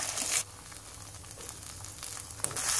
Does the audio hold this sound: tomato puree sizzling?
yes